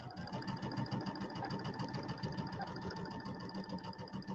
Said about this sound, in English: And there is my 1/4 inch seam using my piecing stitch on my machine.